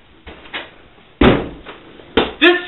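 A door is banged or slammed in a comedic ninja skit: soft knocks, then a loud heavy thud, followed by another thump and a short creaky or squeaky sound, close and clear with no talk.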